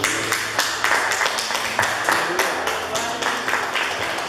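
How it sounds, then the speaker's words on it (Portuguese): A church congregation claps during a worship service in a steady, rhythmic beat of many hands, loud and continuous throughout, with faint voices underneath. "Você pode aplaudir Jesus."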